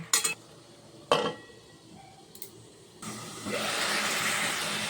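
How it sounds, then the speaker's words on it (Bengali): Chopped tomatoes are stirred into a pot of ridge gourd and potato curry, and the pot is covered with a lid. A few sharp metal clinks are followed by a steady, close sizzle. "এবারে দিয়ে দেব কেটে রাখা টমেটো। ভালোভাবে নেড়ে চেড়ে আবারও ঢেকে দেব।"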